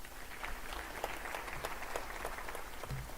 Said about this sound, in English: let's give another round of applause to our high table